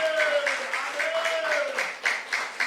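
A church congregation at a Saturday youth worship service claps in praise, a soft, fairly even patter of hands beneath a speaking voice.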